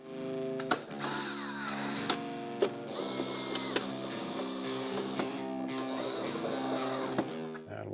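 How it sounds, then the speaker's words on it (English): An extended T27 Torx driver tightens screws on a Harley-Davidson Low Rider ST, giving repeated close clicks and ratcheting turns in short bursts separated by brief pauses, with a faint background hum. "we're gonna just tighten these down"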